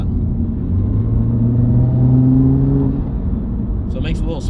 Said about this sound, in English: So it makes a little spool noise at when I kind of let off throttle.